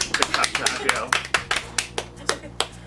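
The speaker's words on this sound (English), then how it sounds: "big clap to Adriel." An audience claps for the event organiser with brisk, rhythmic, closely spaced claps close by, over a low steady hum.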